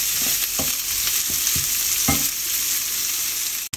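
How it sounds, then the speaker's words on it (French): Onions fry in a hot pan, a continuous bright hiss of sizzling fat broken by several soft scrapes and knocks as they are stirred, with no voices. "on va faire griller tout ça"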